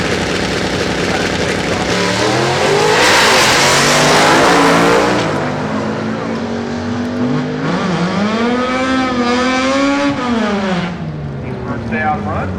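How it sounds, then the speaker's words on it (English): A 409-powered 1962 Chevrolet full-size car launches at a fall drag-racing event at Woodburn Dragstrip. Its engine roars loudly and revs up in rising, sweeping pulls, with an announcer's voice over the noise. "There's John Eastburn and his 409 powered 62 Impala."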